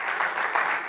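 An audience at a business event claps in a brief, dense burst, with many hands close together and no voices over it.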